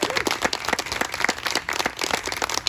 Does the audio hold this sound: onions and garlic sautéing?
no